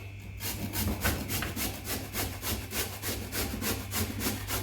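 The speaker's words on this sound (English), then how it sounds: "Don't grate my finger on the last one." Baby marrow grated on a kitchen grater, a steady run of about fifteen rhythmic rasping strokes, close and even throughout with a low hum beneath.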